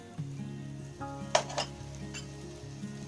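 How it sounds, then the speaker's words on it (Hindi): Tomatoes and green chillies dropped into a hot pan for moong dal, with a soft sizzle, a few clinks of a utensil against the pan and a low steady hum. "अब इसमें मैं डाल दूंगी ये टमाटर, हरी मिर्चें"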